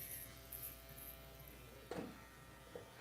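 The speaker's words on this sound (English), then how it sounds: "I chose to use a machine that can remove the bulk quickly." An electric hair clipper buzzes steadily while removing bulk hair in a barbershop, a close, constant hum with a couple of brief louder snips near the end.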